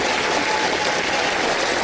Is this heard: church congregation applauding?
yes